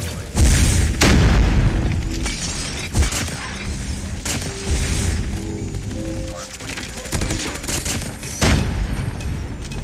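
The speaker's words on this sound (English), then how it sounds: "Laser guns." Laser guns fire in a COD Mobile hardpoint match: loud, repeated booming blasts and rapid bursts, with sharp shots near the start, around three seconds and near the end, over a constant clatter of battle.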